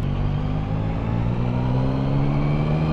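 A 2024 Yamaha MT-09 SP Gen 4 motorcycle engine revs hard and close, a loud, steady mechanical roar with rising tone throughout and no talking.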